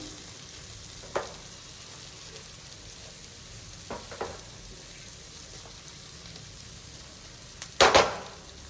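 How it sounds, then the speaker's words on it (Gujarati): Schezwan chutney cooking in a pan, a low steady sizzle with a few scraping stirs and a sharper spatter or clatter near the end. "હવે એને આપણે મિક્સ કરી લઈશું"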